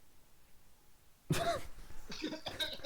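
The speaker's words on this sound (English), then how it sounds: "Just coughing aggressively." A person coughs aggressively during a late-night live stream: a sudden harsh burst after a second of quiet, followed by a couple more rough coughs at close range.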